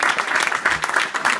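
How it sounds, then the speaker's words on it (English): Brief, dense burst of audience applause at a talk, steady clapping filling the whole moment without speech. "So give yourself a big round of applause."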